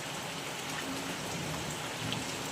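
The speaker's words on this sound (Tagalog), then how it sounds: "Ulan jud kayo." Heavy rain pours steadily in Barangay Tiptip as a dense, even hiss of drops beats on surfaces close by, unbroken for the whole stretch with no voices.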